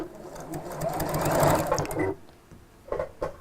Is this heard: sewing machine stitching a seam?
yes